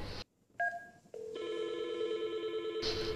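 An IP phone on an internal extension call to a MyPBX system gives a short tone, then a steady electronic ring tone that holds for about a second and a half before a burst of noise, close and clear with no talk.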